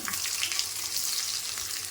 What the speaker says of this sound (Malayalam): ചെറിയ ഉള്ളി ഒന്ന് മൂക്കട്ടെ